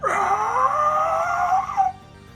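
A voice imitates a zombie roar, one long strained, raspy growl held for nearly two seconds, loud and close, then cutting off abruptly.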